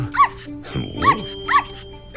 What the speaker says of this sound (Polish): Pozwól najpierw, że przedstawię ci moje małe pieski.